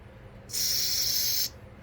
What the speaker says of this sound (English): Let's spray out the banjo bolt.